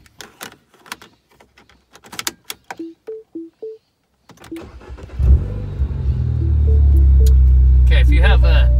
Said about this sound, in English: let me start my car and we'll get to it.